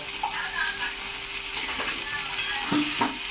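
Soybean marinade water hits a hot frying pan while chilli soybean cooks, giving a brief close sizzle and bubbling hiss with light stirring clatter, no talk.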